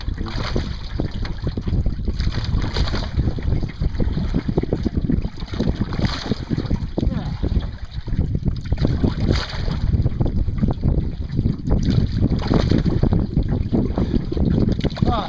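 Paddling a kayak while towing a second kayak on open water in wind, with steady rhythmic paddle strokes and splashes under constant loud wind buffeting, and someone talking at times.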